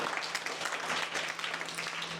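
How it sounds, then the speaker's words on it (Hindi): Children applaud together in a classroom, a brief, dense burst of steady clapping at moderate distance with faint voices mixed in. "तालियां बजाएंगे।"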